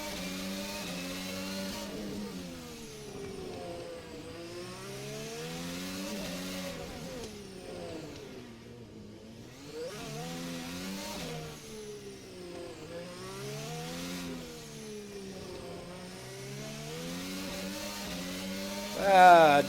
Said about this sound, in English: Let's take a look at the T-cam and listen to that engine.